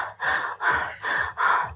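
A person's voice imitates breathing while running: four rhythmic, forceful breathy puffs in steady succession, close and loud, with no other sound.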